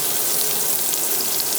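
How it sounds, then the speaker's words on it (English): Half an onion browning in a pan gives a loud, dense, even hiss of sizzling, close and steady throughout with no pauses. "We're going to brown up half an onion."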